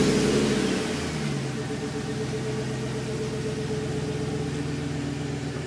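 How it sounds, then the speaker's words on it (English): A car engine is cranked by a Prestige APS922E remote start alarm: a short starter whir in the first second, then the engine catches and settles into a steady, close idle hum. "chirps, cranks the engine."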